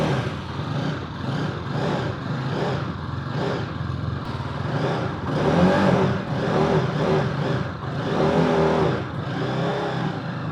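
A 250cc sports bike engine starts up and runs at a steady, throaty idle close by, with gentle swells in engine note but no sharp revving; no voices are heard.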